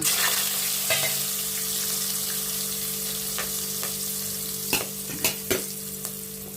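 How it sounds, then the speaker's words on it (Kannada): Whole spices sizzle in hot oil for plain kushka, a steady crackling fry with a few sharper pops and stirring scrapes toward the end, close and fairly loud. "ಆಯಿಲ್ ಬಿಸಿಯಾಗಿದೆ ಇದು ಓಲ್ಡ್ ಸ್ಪೈಸ್ ಹಾಕೋಣ"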